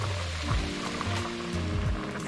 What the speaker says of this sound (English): I am putting my mushrooms in now, and I'm gonna stir that around a little bit.